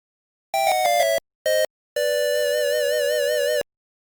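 Synthesized 8-bit chiptune notification built from square and triangle waves. A quick run of stepped beeps and a short blip lead into a long held note with wobbling vibrato, all crisp and isolated against silence.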